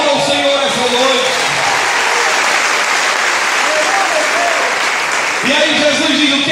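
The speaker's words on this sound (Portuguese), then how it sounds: "Aplauda o Senhor essa noite." A church congregation applauds through a Sunday service, the clapping loud and sustained, washed together with crowd noise and a voice over it.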